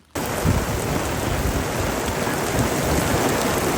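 Steady, dense rainfall hissing and pattering on surfaces, continuous and fairly loud throughout with no voices.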